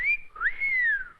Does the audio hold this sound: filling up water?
no